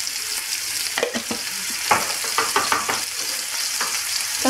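Minced meat kofta seasoned with salt and spices fries in a pan, a continuous close sizzle broken by repeated scraping clicks of a spoon stirring, no talking.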